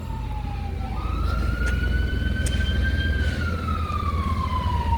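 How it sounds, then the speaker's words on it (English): An ambulance siren wails and sweeps up and down in pitch as it passes along a street in Nassau, Bahamas, loud and close over steady traffic rumble, without talk. "as the ambulance went by"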